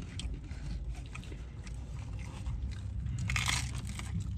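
Close, crisp crunching as someone bites and chews a crunchy El Pollo Loco birria taco shell, repeated crackly bites with no talking.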